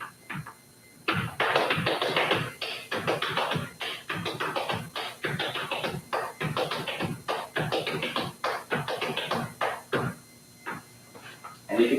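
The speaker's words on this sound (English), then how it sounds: "it's really a great exercise to do the 2-sound walking step on one foot and the 4 sound on the other." Flatfooting Appalachian tap dance steps, alternating a 2-sound and a 4-sound walking step between the feet, give a steady run of close, loud, sharp shoe strikes on a hard floor for about eleven seconds.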